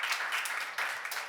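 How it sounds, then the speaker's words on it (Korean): Church seminar audience applauding, a steady wash of many hands clapping at close range, continuous and fairly loud throughout. "박수 하나 되세요."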